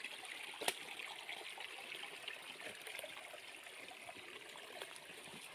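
A stream flows outdoors in woodland, making a faint, steady trickling rush with a few small splashes, heard alone at low level.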